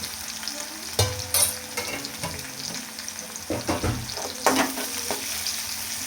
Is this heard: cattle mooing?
no